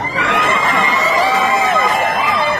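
A live audience at an event in Satun, Thailand cheers and whoops loudly like fans at a boxing match, with high shouting voices ringing out in a continuous roar that lasts the whole stretch.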